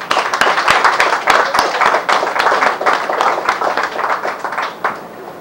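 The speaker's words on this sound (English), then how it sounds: "please join me in giving them a very warm round of applause" Dinner guests give a warm round of applause at a 2010 Nevis association dinner: lively, close clapping from a modest crowd with distinct individual claps, sustained for several seconds.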